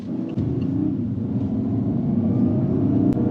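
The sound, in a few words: car engine sound played through speakers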